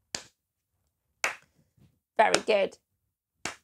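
A few sharp, isolated hand claps ring out at irregular intervals in a quiet room, with a woman's brief spoken praise between them and no music clearly audible.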